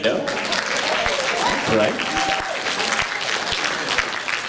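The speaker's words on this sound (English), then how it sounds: "you can clap for the world of Nintendo" A crowd at a retro gaming expo auction applauds, steady clapping throughout with a voice briefly speaking over it.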